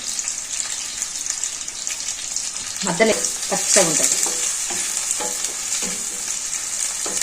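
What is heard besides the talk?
curry leaves frying and sizzling in a pan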